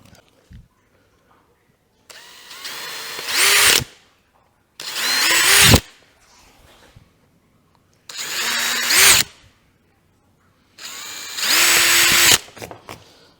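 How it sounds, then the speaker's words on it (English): A power drill bores holes to fit the GBS Zero Gen 2 roof cover, running in four separate bursts of about two seconds each. Each burst whines as the motor speeds up, and near-silent pauses fall between them. "so that's all those drilled now"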